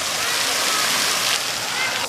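A husky plunges into water among rocky surroundings, raising a broad splashing and sloshing wash that runs continuously at close range, with rushing water noise throughout.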